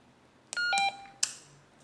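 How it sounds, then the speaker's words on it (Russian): Key beep tones from a TYT TH-UV8200 handheld radio: a short series of clean electronic tones of differing pitch, one held steady, ending with a sharper click-like beep, close and isolated. "это как раз вот эти звуки клавиш"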